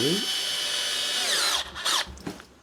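Cordless power driver tightening the last screws on an Erbauer EBP28 petrol leaf blower, a rising whine that settles into a steady buzz, then short bursts as the screws seat, close and loud, with a voice briefly heard.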